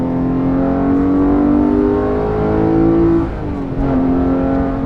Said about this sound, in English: Oh, there goes my car.